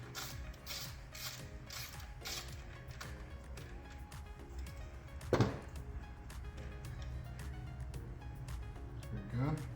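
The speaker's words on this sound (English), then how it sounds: "using my 8mm socket and ratchet with extension" An 8mm socket ratchet with extension loosening the turbo boost pressure sensor on a 2022-2025 Toyota Tacoma 2.4L engine, with rapid clicking ratchet pawl bursts and metallic tool clinks close by, alongside some background noise.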